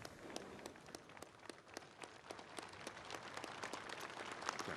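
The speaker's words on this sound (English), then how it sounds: "The church leaders and the public are clapping the president." Church leaders and members of the public applaud the president at an event concerning autocephaly for the Orthodox Church of Ukraine; faint, steady crowd clapping with dense overlapping claps, distant and continuous throughout.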